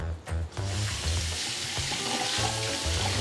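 Sago pearls (sabudana) are washed under running tap water, a steady close rush of water with light swishing as the pearls are rinsed, continuous throughout.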